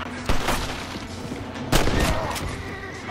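Revolver and rifle shots ring out in Red Dead Redemption, a Western shooter game. Two sharp, booming reports stand out about a second and a half apart, followed by a few quicker, fainter cracks over a low ambient bed.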